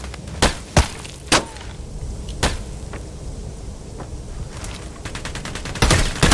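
Video game battle gunfire in Hired Ops: several sharp, loud single shots early, scattered shots in the middle, then a rapid automatic burst at the end, over a steady ambient background.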